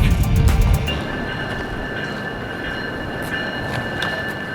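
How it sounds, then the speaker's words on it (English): A train rumbles in with a loud low burst at the start, then a steady hum with a high tonal whine as it rolls into the station. "that's my train pulling in."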